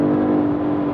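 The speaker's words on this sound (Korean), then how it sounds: "좀 더 가공된 소리를 더해줘서 다이나믹한 엔진 사운드를 극적으로 들려주는 아이코닉 사운드도 함께 들을 수가 있습니다" A BMW X5 xDrive 50e plug-in hybrid SUV in sport mode gives a loud, steady, enhanced engine drone with a smooth whirring tone, heard from inside the cabin.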